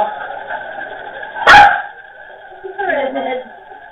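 A dog lets out one sharp, loud bark close by, with a fainter yip or whine a moment later, while people talk around it.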